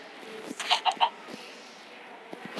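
A few quick chicken clucks in a short burst, then quieter scattered clicks and taps in a game-like setting.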